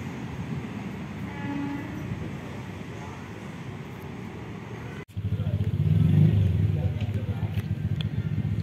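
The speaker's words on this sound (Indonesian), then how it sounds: "Terpantau untuk kereta melintas di jalur 4 ini" Train passing on track 4 at Tambun station, a loud continuous rumble of rail cars rolling by that swells partway through, with people talking over it.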